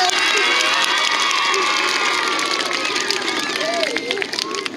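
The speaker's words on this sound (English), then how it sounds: "Let's give her a round of applause." A school assembly crowd claps and cheers loudly and continuously, with children's shouts mixed into the sustained applause before it begins to fade.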